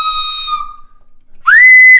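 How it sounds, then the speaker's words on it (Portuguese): A flute blown with helium gas sounds a clear, steady whistle-like tone, breaks off into a short gap, then returns even louder and higher-pitched, close and alone. "Isto parece um apito em vez da flauta."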